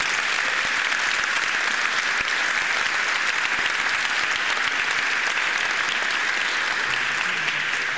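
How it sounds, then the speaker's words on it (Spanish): An audience at an arts recognition ceremony applauds performers of Peruvian music, a loud, dense and continuous wash of clapping that holds steady from start to finish. "Un aplauso para ellos, por favor."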